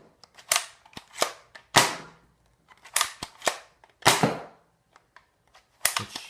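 Toy cap gun firing repeatedly as its cartridge advances, giving sharp, loud snapping pops in an irregular series of about a dozen shots, close up with no talk.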